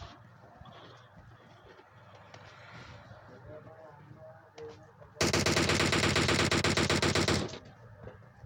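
Rapid automatic gunfire from a shooting video game rips out in one loud, sustained burst lasting about two seconds, following quieter in-game ambience and bird-like chirps while people talk.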